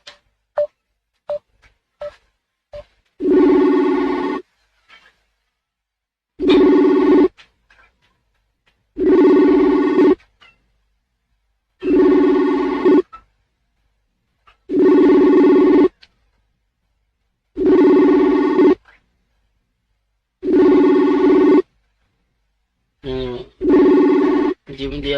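A phone line rings repeatedly on an outgoing call, regular bursts of ringback tone separated by silences, loud and clear, with a few short clicks at the start.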